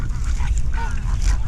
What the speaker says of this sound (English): I like these big geese.